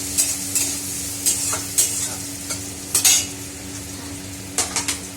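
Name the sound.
flattened rice (chire) being stir-fried with onion in pan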